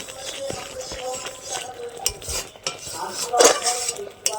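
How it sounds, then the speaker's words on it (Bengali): A metal spatula stirs and scrapes a thickening kulfi malai milk mixture around a wok, giving irregular close clinks and scrapes over a soft bubbling sizzle, with a sharper clatter near the end. "খুন্তি দিয়ে এইভাবে একটু করে নিতে হবে"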